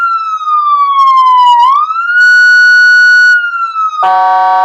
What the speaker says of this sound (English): As there goes the siren